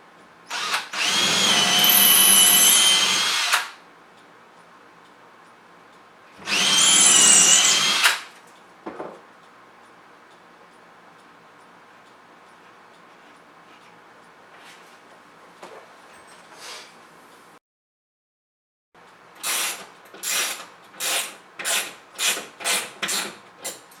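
A power drill runs in two long bursts, followed later by a quick series of short pulses, as screws are driven into a wall stud to hang a TV mount; there is no talking.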